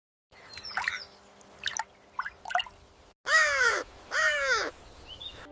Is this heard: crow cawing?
yes